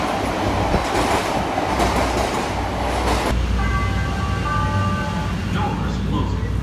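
Inside an elevated train carriage in Chicago, a loud steady roar of wheels and rumbling runs throughout, with a sharp drop in noise midway and then a series of high squealing wheel tones as the train rounds a curve.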